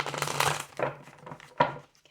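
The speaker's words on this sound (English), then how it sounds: "One more shuffle." A few quick bursts of tarot cards being shuffled, soft and close, with short pauses between riffles.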